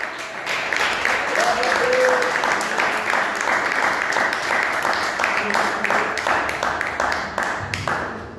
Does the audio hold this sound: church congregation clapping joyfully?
yes